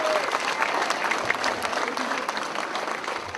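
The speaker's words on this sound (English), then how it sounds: "Give yourself a round of applause." Audience applause at a school ribbon-cutting ceremony, a steady wash of many hands clapping that carries through without pause, with a few voices mixed in under it.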